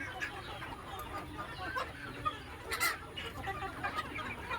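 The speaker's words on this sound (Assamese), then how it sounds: "এইটো চাওক মুৰ্গীবিলাক মোৰ।" Domestic chickens kept indoors on a rainy day cluck softly and intermittently over a steady background hiss, with a few sharper calls standing out.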